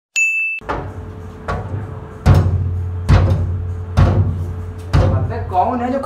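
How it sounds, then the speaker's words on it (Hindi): Loud, repeated knocking on a door in a comic sketch about contractors, five or six heavy bangs spaced about a second apart, close by, with a voice briefly heard near the end. "अबे कौन है तू खटखटा रहा है इतना बुरा?"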